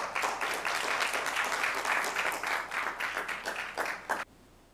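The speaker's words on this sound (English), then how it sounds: "Big round of applause." Audience applause at a city council regular meeting, a steady burst of many hands clapping close and loud for about four seconds before cutting off abruptly.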